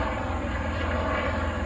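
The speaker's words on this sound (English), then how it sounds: "It's just a helicopter going overhead." A helicopter flies overhead near an airport, a steady loud droning engine rumble with a pulsing rotor thrum throughout, with no speech.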